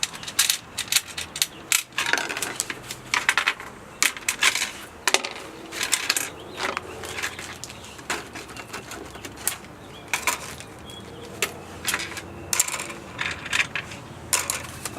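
Screws being handled during assembly of a Craftsman aluminum router table: steady, irregular metallic clicks and clinks close by over a long stretch, with no talk.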